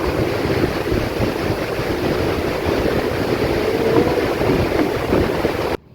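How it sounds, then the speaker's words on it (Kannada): Ocean waves surge and wash onto the shore in a steady, loud roar with wind buffeting the microphone, continuous and close throughout before cutting off at the end. "ಆದರೆ ಹೀಗೆ ಅಲೆ ಬರ್ತಿದೆ ಅಂತ ನೋಡಿ."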